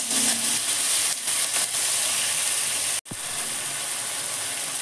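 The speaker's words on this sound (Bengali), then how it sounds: "দেখুন আমার ভাজা হয়ে গেছে পেঁয়াজ আর টমেটো" Onions and tomatoes frying in a pan with salt, a steady close hissing sizzle throughout, briefly cut off once before resuming.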